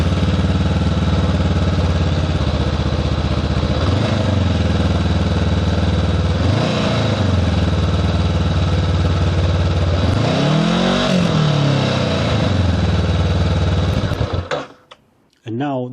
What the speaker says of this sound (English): So here's what the stock exhaust sounds like with a cold start.